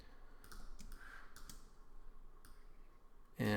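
Computer mouse clicks while making a Photoshop pen-tool selection, several sharp isolated clicks at irregular intervals over a quiet room, close by, ending in a louder burst of noise.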